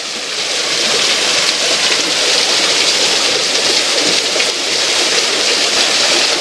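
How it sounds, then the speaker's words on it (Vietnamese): A small waterfall in a West Papua stream, used by villagers for bathing and washing, pours in a loud, continuous rushing roar close by with no voices. "Ví dụ đây là con suối này. Đây là một cái thác nhỏ"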